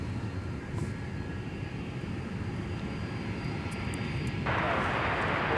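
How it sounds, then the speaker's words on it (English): Delta 160 Heavy, a jet airliner, takes off from Minneapolis–St. Paul bound for Amsterdam, heard as a steady, distant broadband engine roar that swells slightly near the end, with faint talk underneath. "Off goes Delta 160 Heavy, wheels up for Amsterdam Schiphol"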